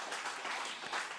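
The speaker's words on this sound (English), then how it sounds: "I think we deserve a round of applause for ourselves" Attendees at a food co-op's annual meeting applauding, a soft, steady wash of many hands clapping heard from a distance, brief and without talk.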